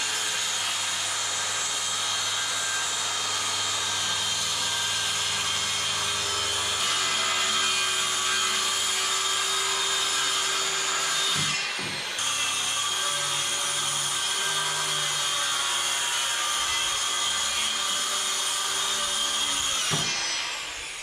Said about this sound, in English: Start by cutting your timber.